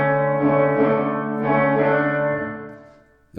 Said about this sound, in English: if I put it all the way up, you shouldn't hear my original sound. You might just hear all reverb